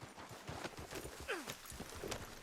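Horse hooves clip-clop at a walking pace in the Red Dead Redemption 2 video game, a quiet, even rhythm of soft footfalls with a brief whinny-like sound partway through.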